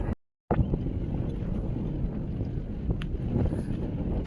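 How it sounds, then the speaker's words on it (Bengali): Wind buffets a microphone on the deck of a passenger launch heading toward Kuakata, a loud continuous low rumble and roar right after a brief silent gap, with no speech. "আমার কথা আপনারা শুনবেন না কিন্তু বাতাসের শব্দ আপনি কিন্তু ঠিকই শুনবেন"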